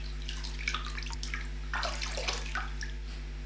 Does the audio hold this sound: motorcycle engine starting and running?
no